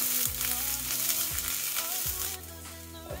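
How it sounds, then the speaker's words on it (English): Vegetables stir-fry in a pan with a loud, continuous sizzle and hiss, broken by periodic scraping strokes of stirring, close and steady throughout with no voices. "Basically stir fry it."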